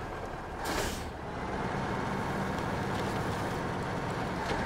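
In the truck game Snowrunner, a truck's air brake gives one sharp, loud hiss near the start, then gives way to a steady, rumbling engine drone.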